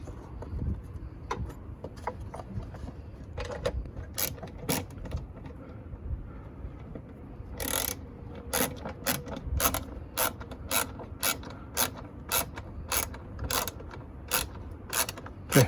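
A ratchet tightening the battery hold-down hook in a 2015-on Acura TLX engine bay, quick bursts of close clicking turns separated by pauses, with light metallic handling between.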